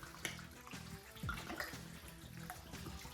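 Red wine glugs and splashes over beef short ribs being braised, a steady liquid pour with a few brief splatters, close and moderately loud with no talking.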